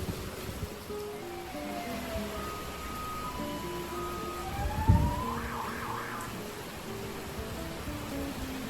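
A wavering evacuation alert siren sweeps up and down at a distance during a super typhoon, faint over a background wash of wind and rain, with a brief thud midway.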